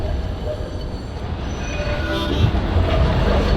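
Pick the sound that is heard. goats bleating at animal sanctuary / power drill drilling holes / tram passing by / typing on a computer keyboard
tram passing by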